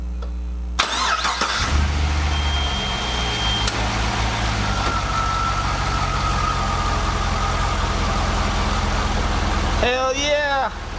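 A V8 Pontiac GTO engine with a newly repaired belt cranks and fires near the start, then settles into a steady, loud idle with no belt squeal, and a short whistle-like chirp comes near the end.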